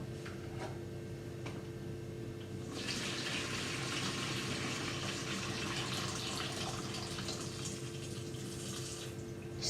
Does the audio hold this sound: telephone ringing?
no